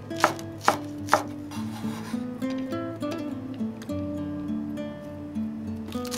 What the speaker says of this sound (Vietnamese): Mình cắt nhỏ hành lá nè